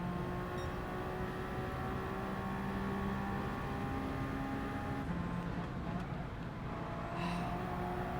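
A race car engine in Gran Turismo 7 drones steadily with sustained tonal whine and shifting pitch, continuous and moderately loud with no talk over it.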